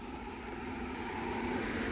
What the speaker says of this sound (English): You'll hear a lot of traffic in the background.